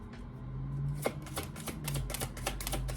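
Crisp, rapid clicking and flicking of tarot cards being shuffled by hand, in short irregular bursts over a low steady hum.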